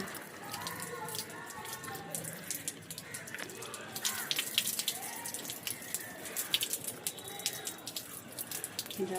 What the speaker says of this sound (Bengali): আমি তো জল দিচ্ছি গাছে গাছে